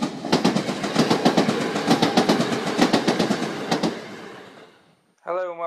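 Model railway train running along track on a layout, rhythmic clickety-clack of wheels over rail joints for about four seconds, then fading out before a voice begins speaking at the end.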